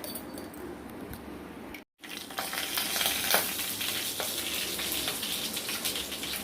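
Fenugreek seeds frying in hot oil, a continuous crackling sizzle with a brief cut near two seconds, then a louder, busier spatter with scattered sharp pops and occasional stirring clinks.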